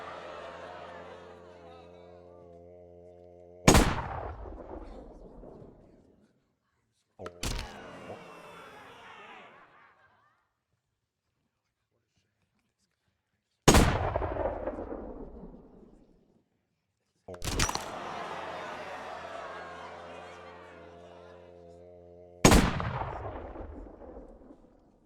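Virtual gunfire in the Penn & Teller VR game: five loud, sharp shots, each followed by a long booming decay, spaced several seconds apart, with a faint tonal sound between some of them.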